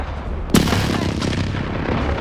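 Artillery strike explodes in Call of Duty Modern Warfare: one sharp, loud blast rips out, then a dense rumble of battle noise continues under it, with no talk.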